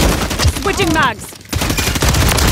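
Rapid bursts of gunfire from Call of Duty: Modern Warfare 3, loud and close, with a short gap partway through before the shooting resumes; a voice is heard briefly amid the shots.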